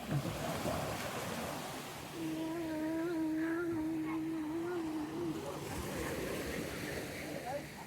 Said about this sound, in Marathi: काय सुंदर लाटा येत आहे